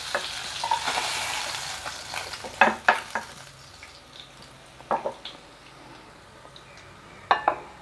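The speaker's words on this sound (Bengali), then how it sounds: "দর্শক দেখুন আমার বাকি মাছটাও ভাজা হয়ে গেছে।" Koi fish fry in hot oil with a steady sizzle, broken by several sharp clatters and scrapes of a utensil against the pan, close up and without talk.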